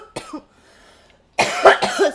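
A person coughs a few times close to the mic, a short single cough then a harsher double burst after a brief silence.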